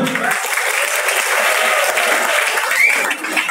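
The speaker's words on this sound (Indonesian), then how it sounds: "Tepuk tangan dulu." Loud, dense audience applause at an event, a continuous close wash of many hands clapping that holds steady for several seconds before easing slightly at the end.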